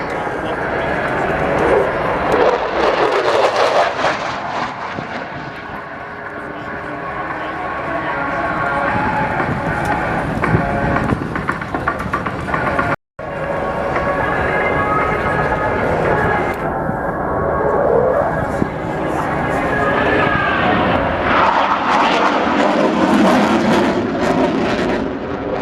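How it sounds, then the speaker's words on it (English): Jet aircraft roaring over the RIAT 2024 air show, a loud broadband rush that swells and holds for many seconds, briefly cutting out once, with a commentator's voice over the PA and crowd ambience. "Closely followed by the wave of jet noise."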